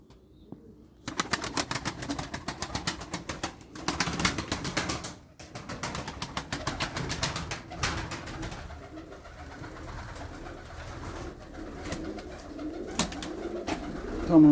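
A runaway pigeon flies into a coop, with bursts of flapping wings and soft cooing from birds close by, the wingbeats clattering unevenly over several seconds amid scattered light rustling.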